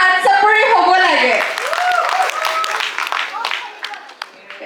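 Audience at the Chef NorthEast 2025 cooking competition prize event claps for a winner's wife, a burst of many hands that rises after a voice and then thins into scattered claps with talk continuing over it.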